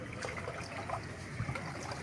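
Floodwater after heavy rain in Jaffna flows and trickles steadily, a soft continuous watery rush heard close, with no talk over it.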